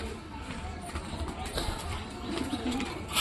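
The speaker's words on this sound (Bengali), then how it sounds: "ওপরে এখনো 3-4টা পায়রা রয়েছে" Several pigeons coo softly from close by in low, rounded repeated calls, mixed with background noise and some talking.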